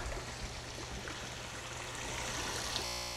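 Water rushes steadily through a small garden creek and out under a bridge, a continuous soft broadband wash with no breaks.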